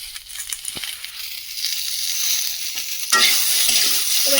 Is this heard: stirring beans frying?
yes